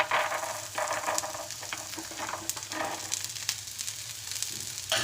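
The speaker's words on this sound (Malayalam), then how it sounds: "ഗ്രീൻ പീസ് ഇട്ട് കൊടുക്കാം." Green peas frying in a pan for stuffed capsicum gravy make a continuous close sizzle, with crackling pops and light stirring scrapes throughout.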